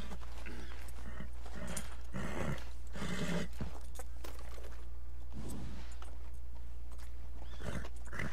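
Horse in Red Dead Redemption II, with hoof clip-clops, snorts and a whinny over a steady low hum, fairly close, with no talk.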